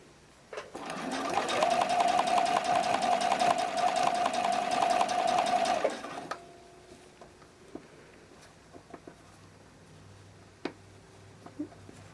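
A sewing machine stitches knit fabric for a bralette cradle in a loud, rapid, steady run of about five seconds, then stops, leaving quiet handling clicks and faint rustles.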